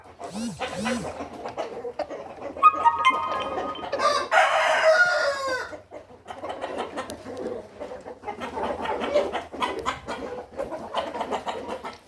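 A rooster crows loudly amid clucking hens, with people talking on and off around the birds.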